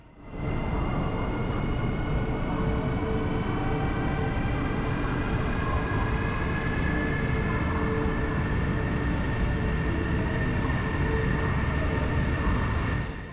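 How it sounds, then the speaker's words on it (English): A Chinese 300 km/h high-speed bullet train departs and rushes past, giving a loud, continuous roar with rising whining tones that lasts over twelve seconds. "Off goes our train, continuing its onward journey to Nanjing."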